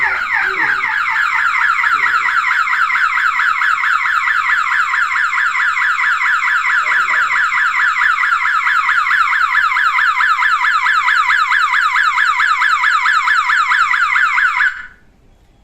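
A motion-triggered siren wired to a CCTV system wails loud and near in a rapid, continuous warbling sweep for about fifteen seconds, then cuts off abruptly.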